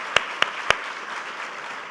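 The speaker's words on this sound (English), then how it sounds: "give Danny and Dana another round of applause for this incredible gift" Soft applause from an audience at a Good Samaritan awards event, a quiet continuous patter of clapping with a few sharper, closer claps standing out near the start.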